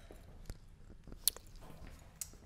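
Someone chewing crunchy homemade toffee, close and quiet, with a few soft crunches and moist chewing sounds in irregular rhythm.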